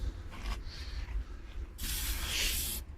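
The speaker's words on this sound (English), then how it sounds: "what I do is I spray it on the back to get any brake fluid off that fitting" Two bursts of aerosol brake cleaner hissing up close onto a rear brake caliper fitting of a Dodge Caravan, a short one followed by a longer, louder blast, with no talking.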